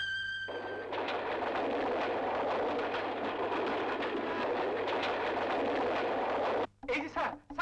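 A train runs steadily close by with a continuous rumbling roar, then breaks off near the end, where a brief burst of other sound follows, from an old Bangla film.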